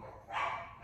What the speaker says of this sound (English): you hear my dogs barking downstairs